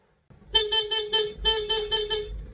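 A motorcycle's stock horn beeps in a series of short, bright honks, about eight in two quick groups, loud and close.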